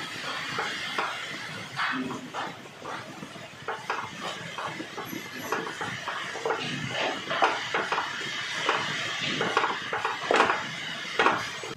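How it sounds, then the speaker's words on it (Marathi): Wheat flour being roasted in leftover ghee in a pan for wheat barfi, a steady close scraping and stirring of a spatula against the pan with soft knocks and rustle throughout, no talk. "आता ह्या राहिलेल्या तुपामध्येच हे गव्हाचं पीठ घालायचं आहे व पीठ हे 10 मिनिटं खमंग भाजून घ्यायचं आहे।"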